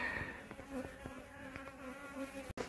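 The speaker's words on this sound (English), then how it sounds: "we've got a little native bee, solitary native bee" A small solitary native bee buzzes steadily near the camera during a beehive cutout and relocation, a continuous droning hum with slight pitch wavering that runs unbroken for a few seconds.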